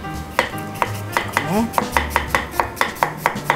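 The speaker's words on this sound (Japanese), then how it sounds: "4等分ぐらいにして細かく切りましょうか" A kitchen knife finely chopping fresh ginger on a cutting board, a run of about a dozen crisp, evenly spaced taps that speed up slightly, close and fairly loud, with a short spoken word at the start.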